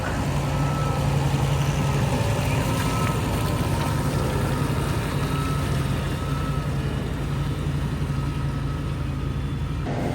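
Big farm tractor on wide tyres spreading digestate slurry across a field, a continuous low engine drone with a steady mechanical hum, loud and close for the full length.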